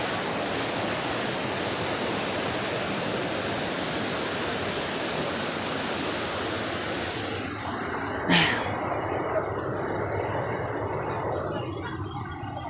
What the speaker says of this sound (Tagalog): Ayan ang falls guys.